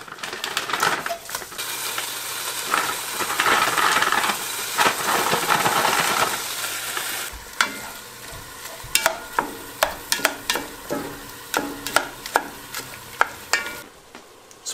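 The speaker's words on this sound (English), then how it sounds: "into our pot with the melted ghee, we're gonna add 2 pounds of ground rabbit" Two pounds of previously frozen ground rabbit going into melted ghee in a pot for buffalo rabbit chili, giving a broad, steady sizzle with stirring scrapes that thins out into sharp, separate clinks and taps toward the end.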